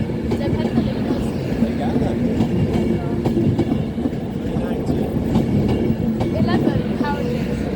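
An eleven-carriage Avanti West Coast tilting train passes close by with a loud, continuous rumble and rhythmic clatter of wheels on rail, while people talk over it.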